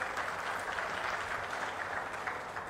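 A crowd at a public meeting in Narasannapeta claps steadily and densely for the whole stretch, a continuous wash of applause with no voices over it.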